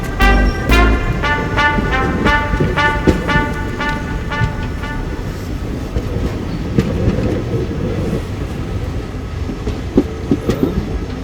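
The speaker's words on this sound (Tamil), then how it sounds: "அது தஞ்சாவூர் போகிற ட்ரெயின்டா." A train bound for Thanjavur rolls past on the rails, loud and close, with steady clickety-clack of wheels over joints and a rumbling carriage roar that continues throughout.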